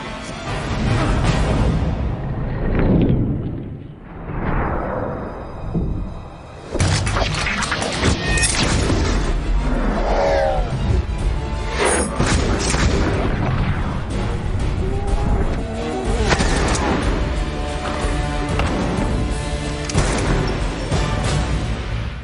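Film action scene with automatic rifle and pistol gunfire: dense, loud bursts of shots and impacts layered over music and effects, running almost continuously after a brief quieter lull.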